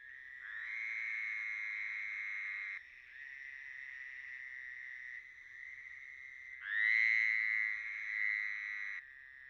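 Male Fowler's toads calling from shallow water, a long, steady nasal trill held for several seconds, then a second and a louder third call, each sustained and fairly close, with no talk.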